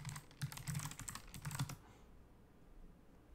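Rapid clatter of typing on a computer keyboard as an email and password are entered, close-up bursts of keystrokes for under two seconds, then quiet.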